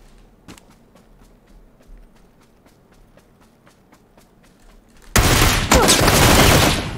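Gunfire in PUBG on the Miramar map, with solo AWM sniper play, erupting as a sudden loud burst of dense shots after a stretch of quiet footsteps, then continuing as sustained crackling fire to the end.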